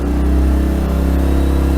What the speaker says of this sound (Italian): Avete sentito che il motore ha avuto un'accelerazione.